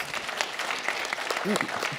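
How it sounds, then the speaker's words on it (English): An audience applauds at a national town hall meeting during a conference, a steady wash of clapping from a crowd with a speaker's voice cutting in over it. "No, you don't need to, don't clap."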